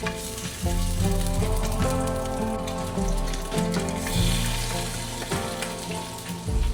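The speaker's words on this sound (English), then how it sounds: "I want to get a good high temp on the cast iron skillet to sear the pork belly" Pork belly searing in a hot cast iron skillet, a loud, close, steady crackling sizzle that runs throughout, with tonal background music underneath.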